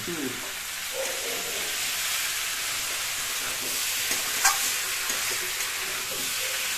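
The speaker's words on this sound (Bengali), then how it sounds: "এবার মশলা দিয়ে কষাই করবো।" Spice paste frying in a pan with prawns and raw pumpkin for a Bengali prawn curry, a steady close sizzle that holds evenly throughout, with one brief clink partway through and no talking.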